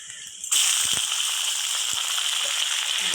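Chopped tomatoes hit hot oil with ginger paste for a rui fish head and mashkalai dal. A sudden burst of sizzling settles into a steady, bright hiss with a few soft knocks from stirring.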